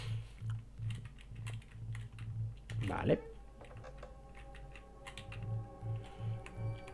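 Keystrokes on a computer keyboard come in quick bursts of close, light taps during a Spooky's House of Jump Scares horror game session, with a brief spoken word and game sounds around the middle.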